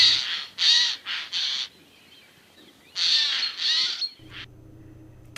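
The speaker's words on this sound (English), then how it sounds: "Methinks the jay's a noisy bird" A jay calling with harsh, raspy squawks delivered in two bursts of three or four calls each, separated by a short pause, close and fairly loud, with no talking.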